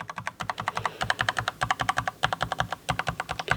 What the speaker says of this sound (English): So I'm going to start off with the standard keys.